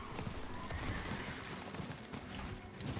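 Horse in the video game Diablo 4, hooves clip-clopping steadily in a quick rhythm with a neigh mixed in, moderately close and fairly quiet, heard alone without talk.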